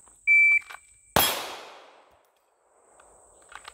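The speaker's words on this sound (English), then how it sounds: "I'm just going to draw and do one shot" A single sharp pistol shot from a Smith & Wesson Bodyguard 2.0, fired on a draw at a steel plate, rings out loud and close with a long metallic decay, after a brief electronic timer beep.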